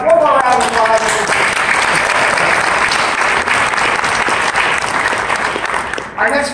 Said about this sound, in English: Please give all those products one more round of applause.